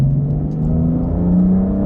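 A 450 hp BMW M car engine revs and pulls steadily under acceleration, a continuous droning rumble with a rising whine, heard from inside the moving car with no talking.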